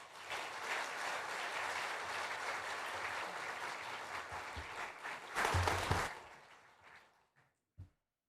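A church congregation gives welcoming applause during a Sunday morning service, a full and fairly distant wash of clapping that swells briefly near the end, then tapers off into near silence with a last stray clap.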